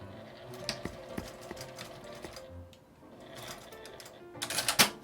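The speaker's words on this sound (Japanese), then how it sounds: "返し口を開けて1センチの縫い代で縫います。" A sewing machine stitches fabric for a small round pouch in short bursts of rapid mechanical chatter, close up, pausing briefly before a louder, faster run near the end.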